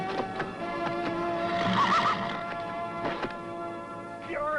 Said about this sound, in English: That horse is mine.